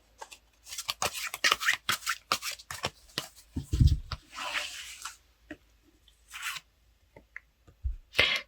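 Tarot cards shuffled and drawn by hand, heard as crisp papery riffles and slaps in quick close bursts, quiet and without any talking, with a few scattered taps near the end.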